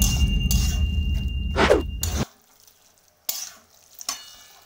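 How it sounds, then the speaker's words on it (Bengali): Grated carrots stirred in ghee over a high gas flame give a loud sizzling scrape and a quick swishing stir, then the frying drops away, leaving faint sizzle with a couple of brief clatters. "আর গ্যাসটা জোরে দিয়ে যতক্ষণ এই জলটা মরবে ততক্ষণ আমি নাড়াচাড়া করে যাব"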